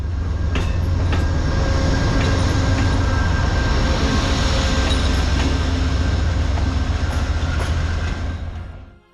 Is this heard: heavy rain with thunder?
no